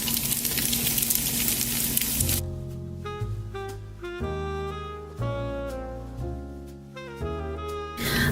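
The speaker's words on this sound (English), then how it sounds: "once you've got all of this spaghetti tossed in all of that bacon fat and garlic" Spaghetti is tossed in bacon fat and garlic in a pan, giving a brief, loud sizzle that stops after about two seconds, when music takes over.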